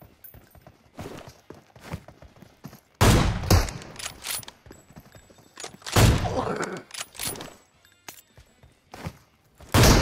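Video game gunfire comes in sharp, close bursts of shots and rapid volleys separated by brief quiet gaps, with clattering footstep-like effects between them.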